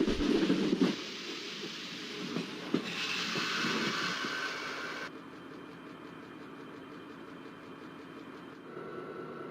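A freight train rumbles slowly toward Chanderia station in India, a low, fairly faint rolling noise with a shift in tone midway, heard from nearby.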